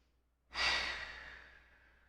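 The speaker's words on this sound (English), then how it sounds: "Inhale through your nose, exhale through your mouth." A single deep exhale through the mouth during a yoga class, close and breathy, rising suddenly and then trailing off slowly into quiet.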